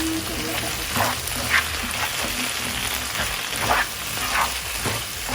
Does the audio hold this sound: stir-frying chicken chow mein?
yes